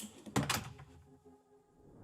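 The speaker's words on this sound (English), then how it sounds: "it closes with enough force to be able to actually latch the handle of the door on its way out" A wall-mounted automatic door closer swings a door shut with enough force to catch the latch, producing a single close, solid thunk followed by a faint settling rattle.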